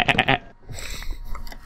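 Sheep bleating in a video game, a quick burst of three wavering bleats up close, followed by quieter clicks and game sounds.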